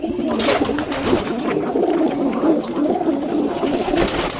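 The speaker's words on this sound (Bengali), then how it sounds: "মূলত এগুলো হচ্ছে বানজা কবুতর" Banja breed pigeons coo close by in low, throaty, repeated warbles, overlapping one another in a steady burbling rhythm.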